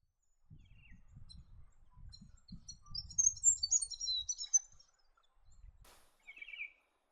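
A black-faced cuckoo-shrike in the New England region of Australia gives short high trilling calls, clear and fairly near, over a soft low rustle, with a brief second call near the end.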